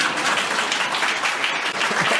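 Town hall audience breaks into applause, a dense, loud wash of many hands clapping that holds steady throughout with no voices on top.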